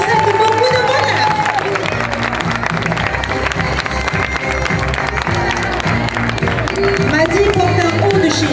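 A crowd at a beauty show in Aubais applauds for Nadine with dense, loud, sustained clapping and some cheering, while a voice speaks over the applause.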